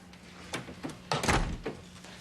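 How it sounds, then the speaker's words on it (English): An office door swings shut with a couple of soft knocks and a firmer thud in a quiet indoor room, heard alone without talk. "Close the door."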